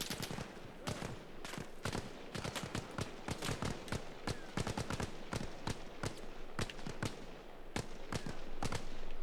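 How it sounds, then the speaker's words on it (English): Dense gunfire from the Arma Reforger video game rattles on throughout, with rapid overlapping bursts and single cracks, some sharp and close, others more distant, building slightly louder toward the end. "where are they shooting from?"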